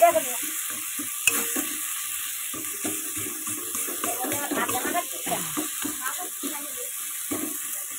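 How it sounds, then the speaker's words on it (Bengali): Fish being stirred and mashed in a pan for a spicy Bengali fish curry, a steady wet scraping and squelching with light sizzle running throughout, close and fairly loud. "দেখতেই পাচ্ছ সুন্দরভাবে ঘেটে নিতে হবে এটাকে"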